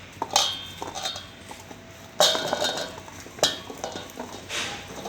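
Raw mango pieces tipped into a spiced pickle mixture in a metal bowl, with several sharp close clinks and clatters of utensil against the bowl between softer shuffling sounds and no speech.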